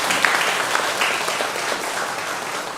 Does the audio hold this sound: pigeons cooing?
no